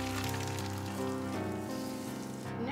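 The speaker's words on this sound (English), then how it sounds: "Okay, so now I'm gonna drizzle this hot oil." Hot oil sizzles as it is drizzled over Malaysian steamed fish, giving a loud, continuous crackling hiss close to the microphone with a tonal hum beneath it.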